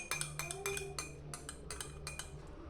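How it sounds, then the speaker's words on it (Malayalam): Eggs for an omelette being stirred in a bowl, with a spoon clinking rhythmically against the bowl in quick bursts of bright metallic taps, close up and fairly quiet. "ഈ ഒരു ബൗള് ഇളക്കണം ഇപ്പം"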